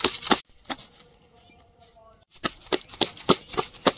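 Gram flour (besan) batter being beaten by hand in a bowl, heard as a burst of quick wet slapping strokes, then a pause, then a faster rhythmic run of close, fairly loud beats.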